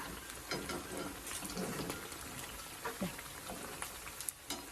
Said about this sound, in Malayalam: അതിനുശേഷം നമ്മൾ തിരിച്ചും മറിച്ച് വിട്ടൊന്ന് ഫ്രൈ ചെയ്തെടുക്കണം.